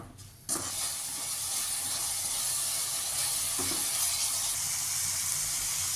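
Tomato puree with turmeric, red chili powder and garam masala hits a hot pan with an abrupt sizzle, then keeps up a steady, loud frying hiss as it is stirred, with no voices.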